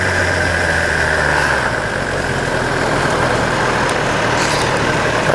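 A motorbike engine drones loud and steady while riding through Sydney traffic. The close, continuous rumble does not let up, and no one talks over it.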